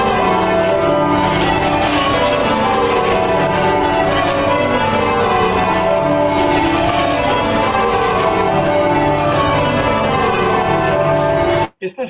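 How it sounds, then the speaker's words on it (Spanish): Church bells in the English Anglican style ring continuously and loudly, several bells overlapping in a dense cascade of tones that carry on without a break before cutting off abruptly. "Probablemente la iglesia cristiana que más toca campanas, más que la católica, sea la iglesia anglicana"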